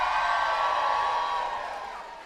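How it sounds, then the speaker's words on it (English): An audience at a showcase cheering and whooping, a sustained bright roar of voices that fades gradually over about two seconds. "give us a big cheer"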